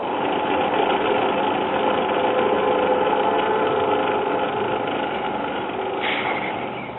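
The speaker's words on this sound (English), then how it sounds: "The drive mechanism could stand to be lubricated, and the cartridge is dead. You can see when I spin the platter," A 1960s Telex-Phonola record player, a blue vintage unit, with its platter spinning on a dry, unlubricated drive mechanism that gives a steady whirring, grinding motor drone throughout, close and continuous.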